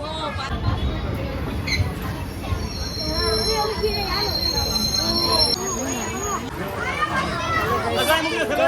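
A local train pulls in with wheels squealing and a steady rumble, while a crowd of voices chatters loudly nearby.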